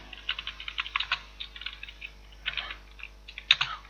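Keys clatter on a computer keyboard as code is typed, quick irregular clusters of clicks close by with short pauses, no voices.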